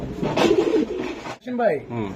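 Black racing pigeons cooing at close range, a throaty rolling coo that fills the first part, then a voice talking over the birds.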